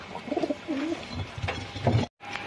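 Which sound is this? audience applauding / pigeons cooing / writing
pigeons cooing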